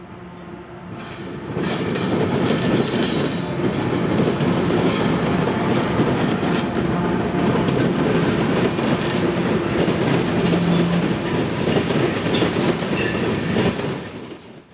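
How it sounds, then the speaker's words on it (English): A Norfolk Southern freight train rumbles steadily across a railroad diamond at Selma, North Carolina, its wheels clattering in a continuous loud roar with a brief squeal, fading at the end; no talk. "Following close behind Amtrak was NS 350, with a clear signal to proceed across the diamond for Selma Yard."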